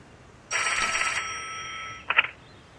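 An old-style telephone bell rings with a bright, sustained metallic trill for about a second and a half, then gives a short second burst, loud and close in a quiet room.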